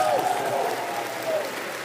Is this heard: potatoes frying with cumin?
no